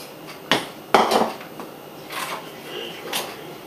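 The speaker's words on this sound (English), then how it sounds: "You just mix that together." Cake mix and diet soda stirred together in a bowl, with a few sharp clinks and knocks of a utensil against the bowl between softer scraping sounds, fairly close and without speech.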